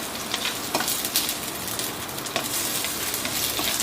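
Adobo ingredients frying in a pan while being stirred, a dense steady sizzle close up with scattered scraping and clicking strokes, no talk.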